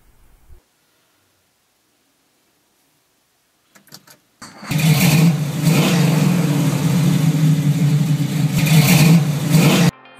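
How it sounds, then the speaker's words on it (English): After near silence and a few faint clicks, a car engine cranks and fires into a loud, steady idle that rumbles on for several seconds before cutting off abruptly, used as an added sound effect in a film advertisement. "adding the engine noise"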